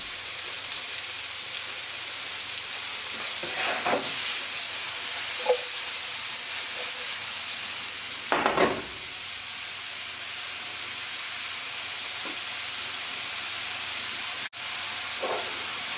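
King oyster and baby bella mushrooms fry in a pan with a steady, even sizzle and hiss that runs the whole time, broken by a few short pops and crackles.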